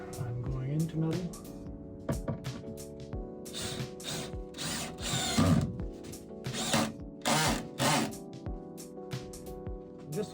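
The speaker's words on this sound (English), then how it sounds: "I'm using sheet metal screws, by the way, because I'm going into metal." A power drill drives sheet metal screws into metal while building out a budget bus conversion, in several short whirring bursts between stretches of talk.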